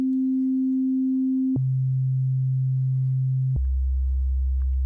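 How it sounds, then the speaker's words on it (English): Pure sine tones from an M8 Tracker, steady and loud, stepping down in pitch across three long sustained notes, each starting with a small click, with no other sound. "Does a sine wave sound like a sine wave, or does it sound like garbage?"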